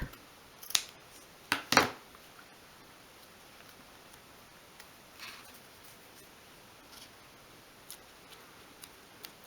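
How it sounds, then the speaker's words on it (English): Scissors snip off the end of a strap on a festive storage trunk craft project: a few crisp close cuts near the start, then faint ticks and rustles in a quiet room. "trim that off just above the horizontal"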